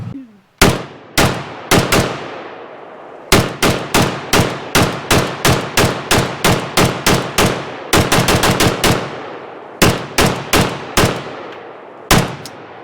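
A Chinese AKS 56S-2 rifle firing in sharp, loud single shots, then a long run of steady repeated reports and a quick burst, each crack ringing out with a decaying echo.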